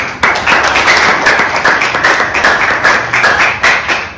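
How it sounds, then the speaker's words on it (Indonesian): Schoolchildren clapping together in a classroom, loud close clapping in a rhythmic pattern of quick bursts, with a lively rising and falling beat. "Tepuk tangan dong"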